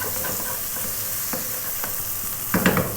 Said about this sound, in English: we're going to go for 3 minutes, stirring pretty much all of the time